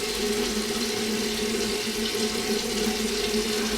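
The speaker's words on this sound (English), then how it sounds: "So I'm gonna go ahead and rinse this off." Tap water runs steadily into a sink during a skincare rinse to wash off oil, a constant close hiss with no pauses and no talking.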